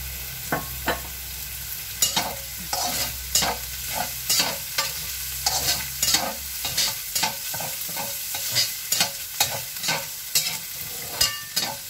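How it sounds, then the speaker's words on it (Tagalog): Minced pork fries in a little cooking oil for a Chinese rice cake dish. A soft, steady sizzle runs throughout, and it is broken by repeated sharp scrapes and clacks of stirring at an uneven rhythm, close up, with no voices. "fry lang natin itong minced pork hanggang mag-little brown"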